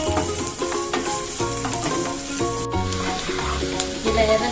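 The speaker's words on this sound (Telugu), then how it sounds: "1 స్పూన్ జీలకర్ర, ఉల్లిపాయలు వేసి ఎర్రగా వేయించుకోవాలి" Cumin seeds and onions fry in a pan for North Indian paneer masala, a steady close sizzle with stirring, under a background melody.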